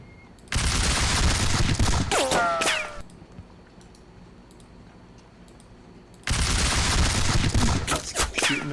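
Musket volleys in an American Revolution battle game crackle as dense bursts of many overlapping shots, one volley lasting about two seconds and another after a quiet pause with faint distant pops and clicks.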